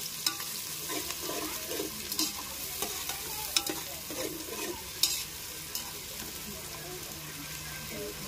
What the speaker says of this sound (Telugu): సన్నగా కట్ చేసి పెట్టుకున్న ఉల్లిపాయలు, పచ్చిమిర్చి, కొత్తిమీర మొత్తం వేసుకొని అవి కొద్దిగా రంగు మారేదాకా గోల్డెన్ బ్రౌన్ కలర్ వచ్చే వరకు వేపుకుందాం